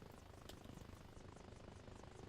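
Steady rotor thumping of a helicopter in Arma Reforger with a rapid chopping pulse, loud and continuous throughout, no voices.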